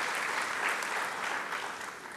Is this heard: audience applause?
yes